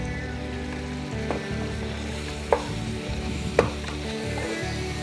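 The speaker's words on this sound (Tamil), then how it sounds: "இமீடியட்டாக லைட்டாக ஒரு வதக்கிட்டு கையோடவே மட்டனையும் போட்டுருங்க." Mutton pieces with tomatoes and yogurt being lightly sautéed in a pan for biryani give a low, steady sizzle with soft stirring scrapes and a couple of sharp utensil knocks.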